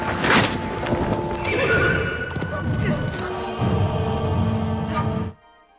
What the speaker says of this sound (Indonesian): berhasil menjinakkan kuda liar yang tidak bisa dijinakkan oleh Han Paucu